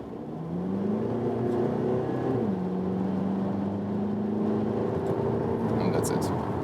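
An Infiniti Q30 accelerates from 60 to 90 km/h, its engine note droning and rising from inside the cabin, dipping at a gear change partway through, then pulling steadily higher.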